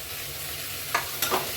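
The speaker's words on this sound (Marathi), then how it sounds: "त्यात कोथिंबीर परतून घेते जरा" Coriander sautéing with ginger-garlic paste in a pan, a soft continuous sizzle broken by two quick stirring scrapes near the end, close and fairly quiet.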